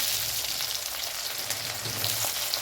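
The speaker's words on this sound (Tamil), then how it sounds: "கடுகு ஒரு அரை ஸ்பூன், சீரகம் கால் சிட்டிகை, சோம்பு கால் சிட்டிகை போட்டுக்கோங்க. இது நல்லா பொரிஞ்சிடும்" Mustard seeds, cumin and fennel splutter and crackle in hot oil, a steady dense sizzle with faint scattered pops, close and even throughout, with no voices.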